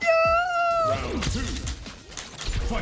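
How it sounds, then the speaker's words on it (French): A cat meows in a clear, drawn-out rising call lasting about a second, then scattered noise and faint voices follow. "il y a un chat qui vient"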